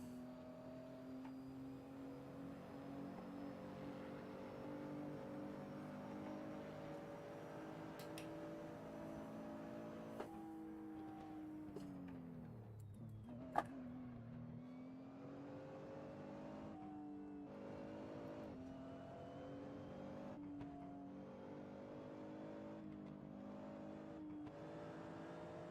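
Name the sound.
Nissan GT-R car engine driving in Assetto Corsa video game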